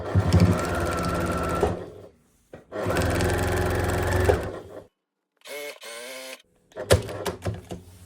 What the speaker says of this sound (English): this time I am going to do a little back stitch because I'm not going to come back to this corner